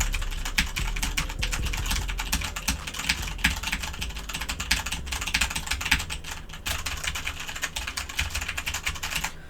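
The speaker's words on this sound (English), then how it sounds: "So 50 to 60 decibels for typing on a red Cherry MX keyboard." Steady, fast typing on a Corsair K70 RGB mechanical keyboard with red Cherry MX switches, a dense continuous clatter of close keystrokes with no talking.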